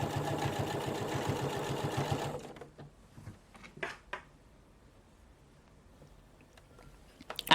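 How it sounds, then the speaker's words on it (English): Sewing machine stitching along a skirt hem, running in a fast, steady mechanical whir for about two seconds, then stopping, leaving a few faint handling clicks and rustles, close by with no talking. "all we have to do is sew along all the way"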